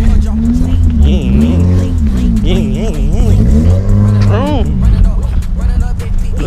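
A Toyota Corolla drives past, its engine a low steady rumble that stays mostly buried beneath loud, continuous talking from nearby people.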